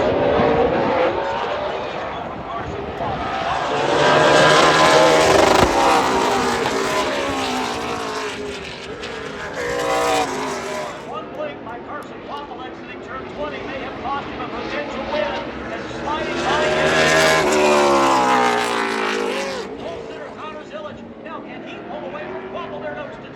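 NASCAR Xfinity race cars at Circuit of the Americas run bumper to bumper up and down the hill past the turn 12 grandstand, loud engines rising and fading in repeated passes with downshifts, under a commentator's voice.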